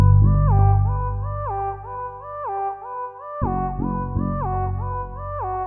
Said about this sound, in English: Melody with the bass sound like this.